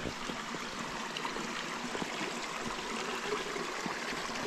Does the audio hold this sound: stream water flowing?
yes